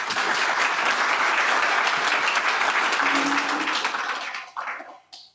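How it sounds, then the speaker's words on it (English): Meetup audience gives a round of applause, dense steady clapping from a small crowd held at full strength for about four seconds, then tapering off into a few scattered claps. "another round of applause"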